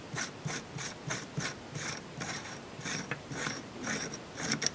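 A muzzle brake being unscrewed by hand from an AR-15 pistol barrel makes a rhythmic series of close metallic ratcheting clicks and thread scrapes, about a dozen turns in quick succession.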